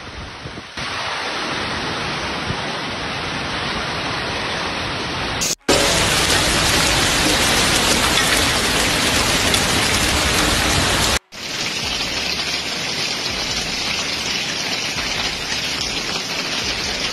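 A hailstorm with strong wind in Milan roars as a loud, continuous wash of pelting ice and rain, unbroken across the whole stretch except for two abrupt cuts between sections.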